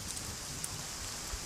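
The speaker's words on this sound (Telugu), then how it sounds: "వర్షం ఇప్పుడప్పుడు తగ్గేటట్లేదు." Steady rain falls outside a bachelor's room, a faint, even hiss of drops continuing throughout with no voices over it.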